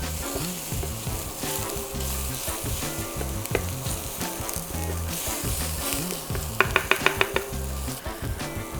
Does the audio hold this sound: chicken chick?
no